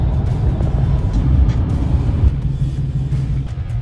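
A car towing a dolly drives along the road, a steady low engine and tyre rumble that stays loud and close the whole way, with no talking.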